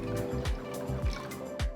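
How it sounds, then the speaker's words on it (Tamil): Water is poured over lentils in a pressure cooker, giving a close, steady liquid trickle with a few soft splashy pulses over a couple of seconds. "பருப்பு முழுகிற அளவுக்கு தண்ணியை ஊற்றி"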